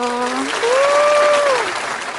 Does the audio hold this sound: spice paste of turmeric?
no